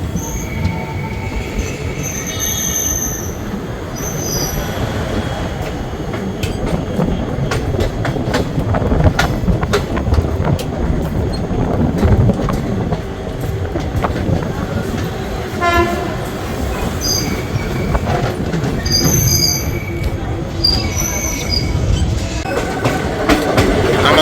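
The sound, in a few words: Maa Tara Express train arriving at Sainthia Junction platform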